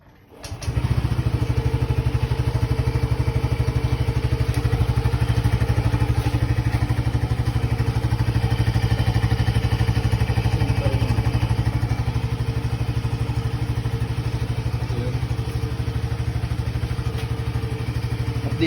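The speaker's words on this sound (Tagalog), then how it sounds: "Tingnan natin kung tahimik sa makina." A motorcycle engine running on Shell Advance Long Ride oil idles steadily up close, a constant low mechanical hum with light clatter that starts abruptly and holds unchanged throughout.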